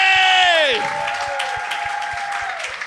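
An audience applauds and cheers for a guest, Maxime Gervais, on a talk show. A raised voice whoops over the start, then steady, fairly loud clapping carries on with voices through it.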